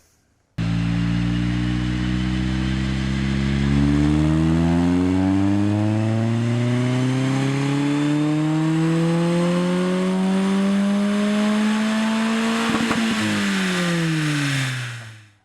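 A Honda car engine with a DC Sports header revs steadily on a dyno, pitch climbing through the gears over about fourteen seconds, loud and close, then cutting off at the end.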